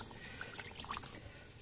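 Water pours into a cooking pan of cashew and potato gravy, a soft continuous splashing and gurgling with a few small bright drips, faint and close, with no talking.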